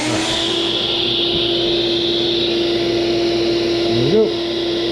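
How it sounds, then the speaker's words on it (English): A shop vacuum runs close by during woodworking on top bar hive parts, a loud, steady whine with a constant hum beneath it, and a short voice comes in near the end. "I'm turning my vacuum because I forgot to do that last time."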